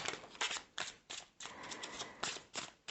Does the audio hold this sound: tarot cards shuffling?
yes